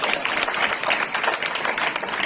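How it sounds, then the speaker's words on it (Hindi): An audience at a Hindi kavi sammelan, a poetry gathering in Dhamtari, applauds with steady, dense clapping that fills the whole stretch at a fairly loud, even level, with no voices standing out. "तो एक बार उनके लिए जोरदार तालियां बजाइए।"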